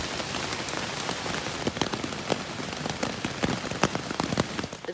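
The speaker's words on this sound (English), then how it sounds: "It's been downpouring all night and all morning." Heavy rain drums on a tent while camping on the Appalachian Trail, a dense, continuous patter with sharper individual drops striking close by and no voices.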